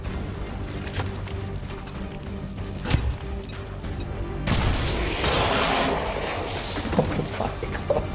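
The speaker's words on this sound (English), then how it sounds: "Grenade out!" A grenade goes off in the video game XCOM 2: a sudden close boom about halfway through, followed by a rolling crash of debris over steady background game ambience.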